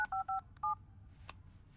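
Three quick touch-tone beeps of a phone keypad, clear and close, followed by a faint click and low background hum; no ring is heard.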